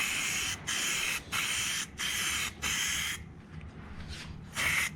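Plasti Dip sprayed onto a rusty Ram 1500 truck in bursts: five long, even hissing passes separated by short pauses, then a quieter gap and one final burst, close up.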